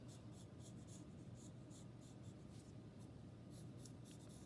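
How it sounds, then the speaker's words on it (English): A pencil drawing on paper during a portrait sketch gives a faint, steady scratching with short repeated strokes over a low background hum. "I can use my pencil, make a little mark right there"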